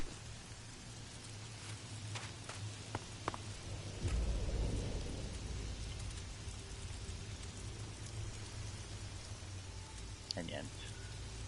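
Steady rainfall in the video game ELEX, a constant hiss with a low rumbling swell in the middle and occasional small knocks, with a voice talking faintly over it.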